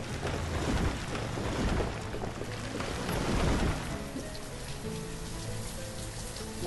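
Rain falling in the city-building game Banished 2 during late autumn, a dense continuous hiss of drops that eases slightly partway through, heard alone without talk.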